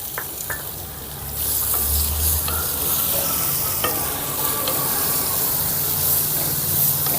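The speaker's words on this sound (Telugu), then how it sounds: "సన్నగా తరిగి పెట్టుకున్న ఉల్లిపాయ ముక్కల్ని కూడా వేసేసుకుందాం" Loud, continuous sizzling of sliced onions hitting hot oil, with occasional clinks and stirring scrapes over the steady frying hiss.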